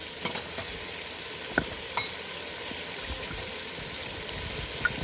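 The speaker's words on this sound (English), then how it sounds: "give it a good stir" Aloo gosht with coriander and turmeric powder being stirred in a pot, giving a steady soft sizzle with a few sharp clinks of the spoon against the metal, close and moderately quiet, with no talking.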